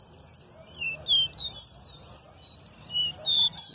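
A caboclinho seedeater singing in a cage, a series of quick high whistled chirps in an irregular rhythm, close and clear over a faint low background hum.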